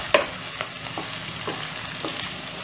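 Capsicum sabji being stirred in a pan over a medium flame, a spoon scraping in a few soft, evenly spaced strokes over a steady low sizzle of frying.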